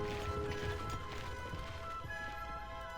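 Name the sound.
horse archers galloping in video game Warcraft Total War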